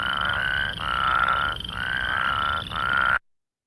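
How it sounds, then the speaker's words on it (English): Plains spadefoot toad gives a series of short whirring calls, three or four loud trilled bursts separated by brief gaps, close and alone before cutting off. "The plains spadefoot has more of a whirring call."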